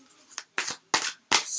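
Tarot cards being shuffled by hand, heard as four short papery riffling bursts, close and fairly quiet, with brief pauses between them and no talking.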